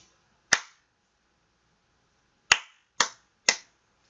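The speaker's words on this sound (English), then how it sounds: "Now let's clap it." Hand claps in a simple rhythm lesson: one sharp clap, a two-second pause, then three evenly spaced claps about half a second apart, close and crisp with no talking over them.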